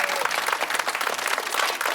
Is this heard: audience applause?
yes